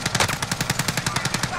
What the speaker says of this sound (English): Oh, there's shots.